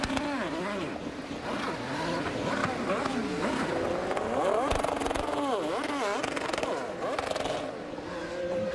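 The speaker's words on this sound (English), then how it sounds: "Listen to all the cars on the red limiters." Several IndyCar engines scream and bounce off their rev limiters at a distance after a turn 4 pileup at the 2016 St. Petersburg race, overlapping whines rising and falling with a crowd-like background.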